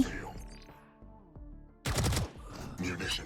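Gunfire in the shooter game Valorant, a short burst of loud sharp rapid shots arriving after quieter game sounds, with distinct echoing reports close up and no speech.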